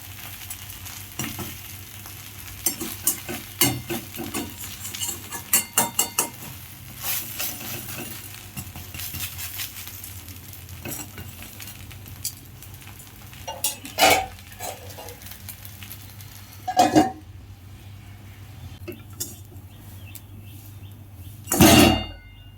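Podapitha batter sizzles in a pan, giving a steady quiet frying hiss with scattered clinks and scrapes of utensils against cookware and a few louder knocks.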